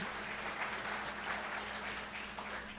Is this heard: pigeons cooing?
no